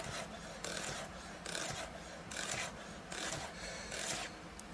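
Chef's knife thinly slicing food on a cutting board, the blade guided against a knuckle as the hand steps back; a steady series of soft rasping cuts repeats in an even rhythm, close and fairly quiet, with no talking.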